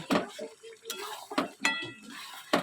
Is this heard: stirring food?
yes